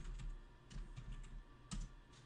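A computer keyboard is tapped in a few brief, faint bursts of clicking keystrokes, close but very quiet, with no voices.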